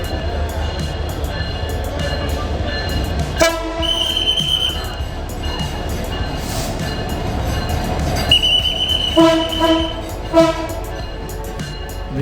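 A train pulling into a station platform on the Cox's Bazar to Dhaka route, rumbling wheels and clattering cars under sustained blasts of a loud horn, with steady background noise and no talk.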